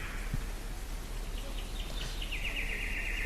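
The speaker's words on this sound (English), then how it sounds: "Little murmur of birds" Faint birdsong drifts over a steady hiss of background noise, a few thin chirps and one longer trilling call, distant and soft.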